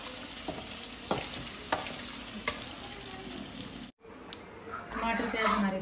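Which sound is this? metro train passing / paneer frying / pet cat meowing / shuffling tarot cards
paneer frying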